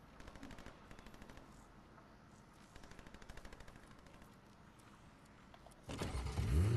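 Gunfire in the Fortnite video game, rapid bursts of shots at a quiet level, followed by a louder surge of game action near the end.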